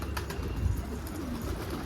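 Pigeons arriving at a loft give soft, low cooing, with faint wing flutters over a steady outdoor rumble, no voices.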